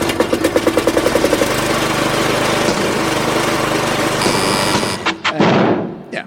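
A car engine arriving, heard first as a loud, rhythmic revving drone that could pass for a lawnmower, then cutting out and giving way to brief knocks and rustles near the end.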